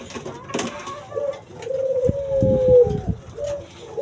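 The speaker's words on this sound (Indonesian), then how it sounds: "Lebih banyak puter Iraknya daripada puter lokal abu biasanya." Iraqi and local grey turtle doves coo in a breeding aviary during the rainy season, with one clear, close, drawn-out coo and a few softer calls over faint background noise.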